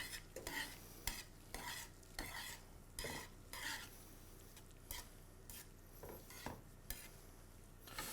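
Pasta is tossed in amatriciana sauce in a pan, heard as a rhythmic series of wet stirring and scraping strokes about every half second over a steady sizzle, quiet and close.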